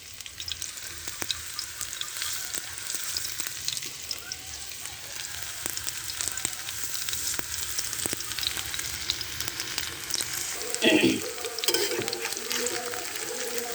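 Prawn fritters sizzle steadily in hot oil and are turned over partway through, a continuous crackling fry with a brief louder stir and spatter near the end.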